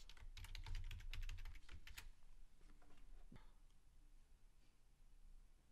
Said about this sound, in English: you're going to type in the password that you have.